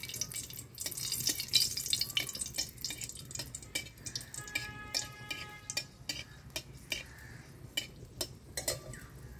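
Dried red chillies frying in hot oil in a kadai, a faint sizzle broken by small crackles and pops, with a few light clinks of a utensil against the pan.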